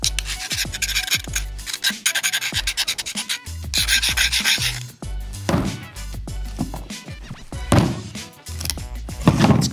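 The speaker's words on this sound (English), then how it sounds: "This is a diamond stone. Not sure what grit it is, but it will do nicely for dulling." Knife blade rubbed in repeated rasping strokes across a diamond sharpening stone, close and fairly loud, with occasional thunks between strokes and no talking.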